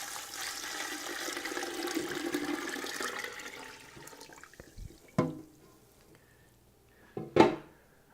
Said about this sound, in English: To this I'm going to add 1 gallon of water.